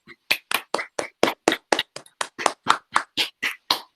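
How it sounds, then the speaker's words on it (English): About fifteen sharp claps in a steady, even rhythm, close and fairly loud, during a casual podcast conversation, sounding like one or two people clapping alone without talk. "I get a clap for that"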